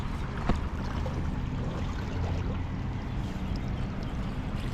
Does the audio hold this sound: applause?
no